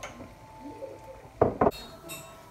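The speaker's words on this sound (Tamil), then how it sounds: "இதை நான் ஒரு பவுலில் ட்ரான்ஸ்ஃபர் பண்ணிடுறேன்." Pepper chicken being moved into a bowl: a few sharp clinks and scrapes of a utensil against dishware, two close bursts in quick succession followed by a lighter clatter, over quiet kitchen background.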